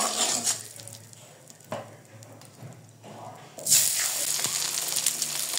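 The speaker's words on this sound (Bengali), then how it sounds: "ডিম লাল করে ভেজে নিয়েছি, তুলে নিব।" Eggs frying in oil in a home kitchen, a soft steady sizzle under scattered utensil clinks and stirring, with a sharper, louder burst of hissing partway through.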